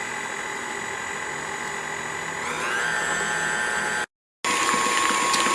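A mixer churns cocoa-cashew butter cookie dough in a steady, close mechanical whir with a ratcheting texture. The pitch climbs partway through, then the sound cuts out briefly and resumes.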